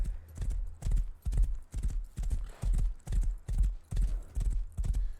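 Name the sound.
black stallion horse hooves and neigh in World of Warcraft video game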